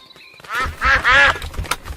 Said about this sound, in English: The ducks are running through Daddy's paint.